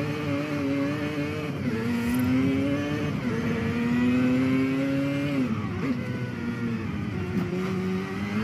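A car engine revving and accelerating in the racing video game Forza on a touge mountain road, a loud continuous whine rising and dipping through gear changes with no talking.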